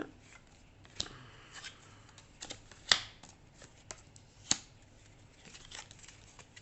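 Tarot cards are shuffled and handled nearby, soft papery riffles and taps with a few sharper snaps, quiet and intermittent.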